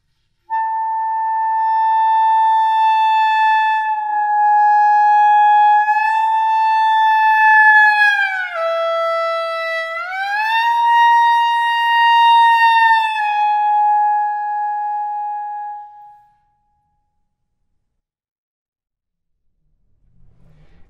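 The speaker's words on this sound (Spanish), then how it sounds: "la utilización de glissando en intervalos muy cortos" Clarinet playing a long sustained tone that glides down through short intervals, including a fifth and a tritone, then slides back up before holding and fading out, solo and clear.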